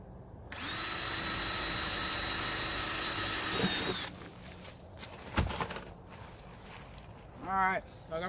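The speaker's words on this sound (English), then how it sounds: "Alright, so I got my holes drilled." A power drill bores holes in a plastic garden tote outdoors, running steadily for about four seconds at close range before stopping, followed by faint handling noises and a short spin near the end.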